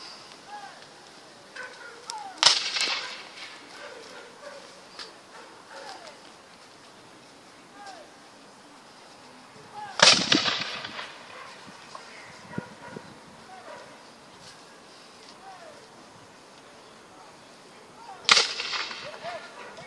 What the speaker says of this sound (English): They're saying they're fighting with carbines today.